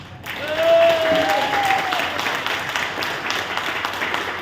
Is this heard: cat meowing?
no